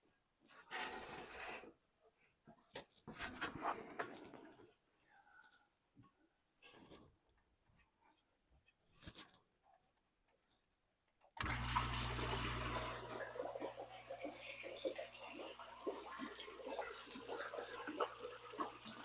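Water rushing from the jet of a newly primed cold plunge tub pump, a steady hissing gush with a low hum that starts abruptly partway through after quieter scattered splashes and clicks.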